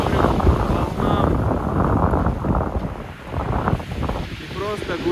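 Black Sea waves at Sochi in December rolling and washing steadily with gusty wind buffeting the microphone, a continuous rushing wash throughout.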